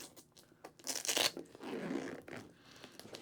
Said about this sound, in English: The Velcro patch is very strong.